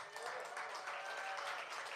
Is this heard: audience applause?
yes